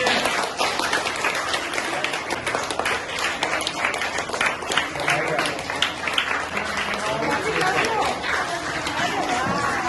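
A school gathering clapping for honoured schoolgirls, dense continuous applause from a crowd with chatter and a voice speaking over it throughout.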